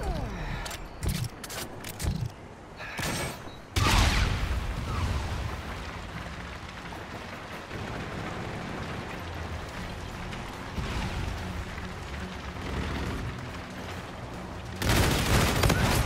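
Pistol gunfire in Call of Duty: Infinite Warfare search and destroy, a burst of rapid loud shots early on, then dense, sustained crackling and booming battle noise with a further loud blast near the end, with a player talking over it.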